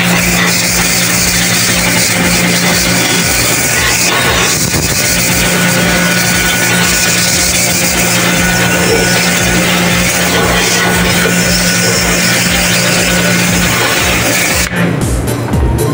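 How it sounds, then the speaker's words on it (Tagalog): A loud, steady motorized pressure washer drone with a low hum, cleaning rooftop air-conditioner outdoor units, runs continuously without pause, cutting off abruptly just before the end. "Dahil malakas tong aking pressure washer"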